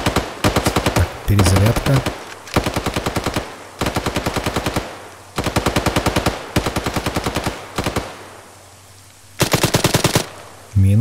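Machine gun fire in the ArmA 3 video game, loud rapid bursts of automatic shots repeated in several long strings with brief pauses between them, and a voice speaking briefly during a gap.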